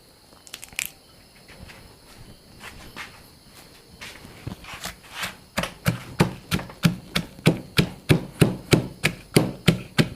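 Long beans are pounded in a mortar for an Isan-style salad, with a few scattered knocks that settle into a steady, loud pestle rhythm of close, evenly spaced thuds in the second half.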